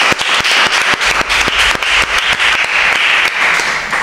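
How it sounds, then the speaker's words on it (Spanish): Dense, loud audience applause at an event in Marbella, steady rapid clapping from many hands filling the whole stretch, close and continuous with no voices. "un aplauso muy fuerte para Marbella"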